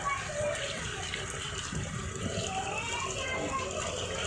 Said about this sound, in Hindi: ये हमारे बच्चे हाथ धो रहे हैं।